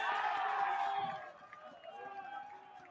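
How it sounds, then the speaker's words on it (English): Baseball crowd at Dominico Field during a playoff game, cheering and whooping that swells at first and then settles, heard from a distance under a nearby announcer's voice. "The crowd's still loving it here at Dominico Field."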